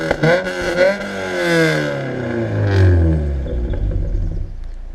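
A car engine revs hard and accelerates, with rising and falling roars, a deep rumble and some clatter, loud and close, lasting throughout.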